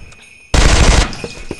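Automatic gunfire from the video game Interstellar Marines: a loud, close burst of rapid shots lasting about half a second, which cuts off abruptly and leaves a faint ringing tail.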